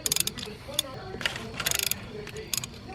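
Ratchet wrench backing 10mm bolts off an engine cover on an MK6 Golf R during cylinder head removal, short bursts of rapid clicking ratchet strokes close by, repeated several times with brief pauses between.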